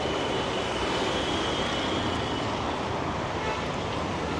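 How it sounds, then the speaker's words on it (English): A train horn sounds in Mumbai, India, as a long steady tone blended into a loud, dense wash of rail and street traffic noise that fills the whole stretch without a break. "There it is, the Omega honks."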